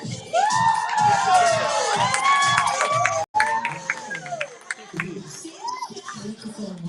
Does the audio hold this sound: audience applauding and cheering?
yes